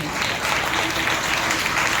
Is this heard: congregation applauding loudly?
yes